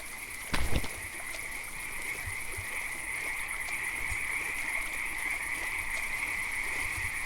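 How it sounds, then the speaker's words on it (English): A steady night chorus of frogs in the video game Eastshade: a continuous high-pitched drone sustained throughout, with a short splash-like knock near the start and faint water ambience beneath. "The army of frogs are back."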